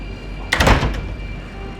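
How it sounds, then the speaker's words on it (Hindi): A single heavy mansion door in a horror cartoon thuds shut with a short, loud impact, followed by a brief rattle, against a quiet steady background hum. "अचानक हवेली का दरवाजा अपने आप बंद हो गया।"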